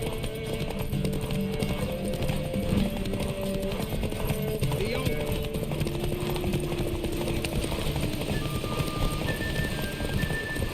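A horse in The Witcher 3 gallops with rapid, rhythmic clip-clop hoofbeats at close range, steady throughout, under a background music bed and character voices talking.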